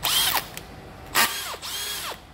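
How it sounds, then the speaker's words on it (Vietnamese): A used Japanese-market cordless drill in screwdriver mode whirs in short bursts, rising and falling in pitch with brief pauses between runs, loud and close with no talking. "Bắt quýt nó sẽ kêu như vậy ha."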